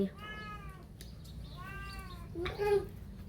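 A cat meows three times in a row, each call clear and fairly close, the last one louder and rougher, over a steady low background hum.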